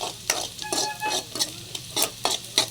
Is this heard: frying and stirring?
yes